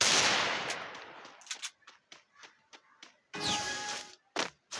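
A Desert Eagle shot in a shooting video game opens with a loud, sharp blast that rings out and fades, followed by scattered light clicks and a second burst of noise.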